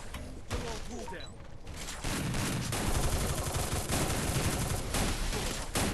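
Rapid bursts of gunfire in the video game Free Fire, loud and close, with dense repeated shots that grow heavier toward the end, while a player talks excitedly over the shooting.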